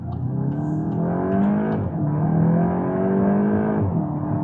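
Engine of a 2025 VW Golf GTI with the 2.0 TSI 265 PS and 7-speed DSG revving under acceleration on a cold road: a loud, close, continuous harmonic drone rising in pitch, dipping briefly at gear changes, then climbing again.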